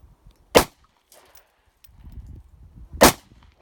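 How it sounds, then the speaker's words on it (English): Two sharp, loud gunshots ring out alone at an outdoor shooting range, spaced about two and a half seconds apart, with low rumbling handling noise between them. "Just keep shooting."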